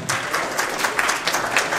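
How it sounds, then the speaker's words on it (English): Applause from a jazz festival audience for performers at a jam session clinic, steady dense clapping filling the whole stretch, close and fairly loud. "Another round of applause for them."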